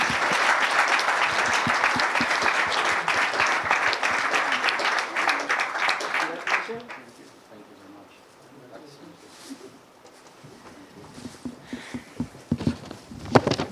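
A room full of people claps loudly for thesis prize winners at an award ceremony. The applause is dense for about six seconds, then dies away into a quieter murmur with scattered shuffles and a few late claps.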